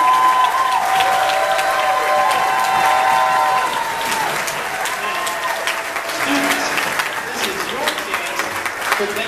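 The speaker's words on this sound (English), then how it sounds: "We give them a big, another round of applause" Audience applauding at a 2016 fifth grade mass band concert in Champaign, a broad wash of clapping that is loud at first and then eases off a little, with faint voices and stray tones mixed in underneath.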